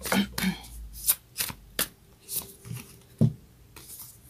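A deck of Moonology oracle cards is shuffled and handled up close, with sharp riffling snaps and soft slaps in irregular bursts.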